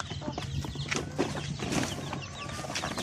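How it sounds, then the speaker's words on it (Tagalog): Newly hatched native chicks, a batch of about eleven in a farm pen, peep in thin, high, overlapping chirps at a moderate distance with no talking. "ipapakita ko ang mga bagong pisa nating sisiyo ngayong buwan ng February"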